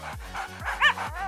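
A small dog gives a few quick yips and high whimpering barks, close by and fairly quiet, in a short burst.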